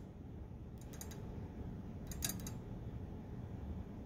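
A rider weight slides along the beam of a triple beam balance, giving two short bursts of faint mechanical clicking over a quiet room hiss.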